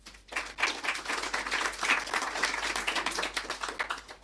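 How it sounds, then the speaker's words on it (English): Applause from an attentive audience at a book event, a steady wash of many hands clapping that fills the whole stretch at moderate level, with no talking over it. "So give yourselves and our authors a round of applause."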